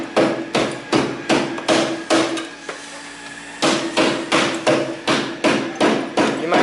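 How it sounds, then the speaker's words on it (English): A hammer drill pounds on concrete in repeated loud bursts, each a rapid hammering run of about half a second, with a short pause partway through before the bursts resume, close and with no talk. "You might want to get that started with the hammer, the hammer drill, just to pop an edge loose"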